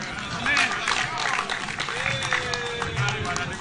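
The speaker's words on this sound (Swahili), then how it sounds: "makofi kwake tafadhali" An audience at the EAC Inter-Parliamentary Games event in Mombasa County claps steadily in a dense, continuous wash of applause, with voices and crowd noise mixed in throughout.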